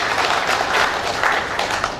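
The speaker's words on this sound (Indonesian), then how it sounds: "Hadirin beri tepuk tangan yang meriah buat beliau" An audience at an awards gathering claps in a dense, even burst of applause lasting a couple of seconds, fairly close and moderately loud.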